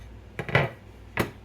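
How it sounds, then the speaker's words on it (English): A chopping board shifted across a kitchen counter with a bell pepper and onion nearby, giving a few dull wooden knocks and scrapes: two bumps close together, then a single knock a moment later, near and moderately loud. "Let me get this chopping board back over here."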